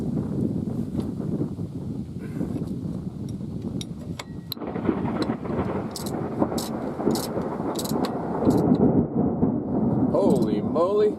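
Thunder rumbles through a heavy rainstorm with lightning, a low, continuous roar of rolling thunder over steady rain hiss that swells louder near the end, with no one speaking.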